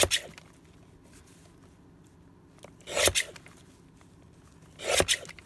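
Strips of paper are cut lengthwise with scissors during desk cleaning, three short close bursts of crisp slicing and rustling separated by quiet pauses, with no talking.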